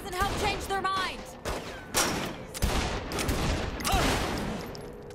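Dense gunfire in Saints Row 3 with rapid overlapping shots and bursts. A voice talks over the shooting at times.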